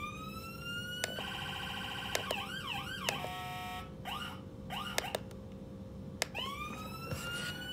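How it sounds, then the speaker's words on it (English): Police car siren cycling through several tones, with wails, yelps and rapid warbles under a steady electrical hum, heard from inside the vehicle with brief clicks as modes change. "Siren, that switch has to be on, and then push the button on the back on the right."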